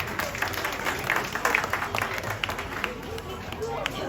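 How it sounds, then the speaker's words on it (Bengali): At a school 21st February International Mother Language Day programme, an audience claps in a loose, uneven round of applause, moderately loud, with some crowd murmur beneath it. "তাদের জন্য আরেকবার হাততালি দেই।"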